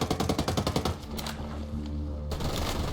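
Rapid automatic gunfire from a rifle in the shooter game Ghost Recon Breakpoint, a fast rhythmic burst of about a dozen loud shots for the first second, then a low rumbling hum and more clattering noise.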